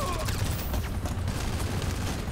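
Enemy gunfire in GTA Online during a super yacht mission, a dense, continuous fusillade of rapid shots and booms layered over low rumbling, loud and sustained throughout with no clear pauses.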